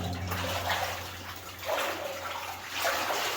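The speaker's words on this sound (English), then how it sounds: "So that water is dripping from that stalactite." Water dripping and trickling from stalactites inside an old abandoned mine, a steady wet splashing with soft drops landing close by under a low constant hum.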